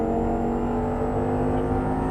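An Audi R8 engine pulls hard after an upshift, a loud, steady, close-up drone with a rich, even tone and no voices over it.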